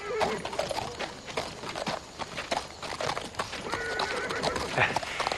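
A horse whinnies while hooves clip-clop steadily nearby, with other voices and movement mixed in the background.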